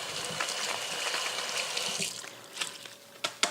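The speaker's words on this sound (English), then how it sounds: "you rinse the chili pods" Dried red chili pods are rinsed under a running kitchen tap, a steady gush of water splashing into a sink, with a few sharper clunks near the end.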